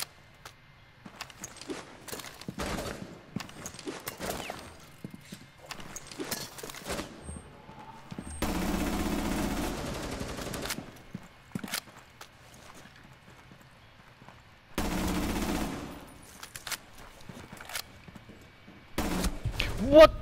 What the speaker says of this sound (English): I can't control this gun.